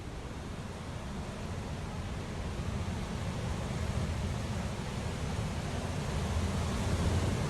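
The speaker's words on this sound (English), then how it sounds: "Waterfall." A waterfall in the video game Techtonica roars as a steady, dense wash of noise that stays level throughout, with no voices over it.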